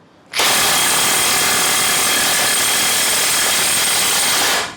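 A Milwaukee 2762-20 cordless impact wrench loosens a bolt in one continuous loud hammering burst of about four seconds, close up and alone, then stops abruptly.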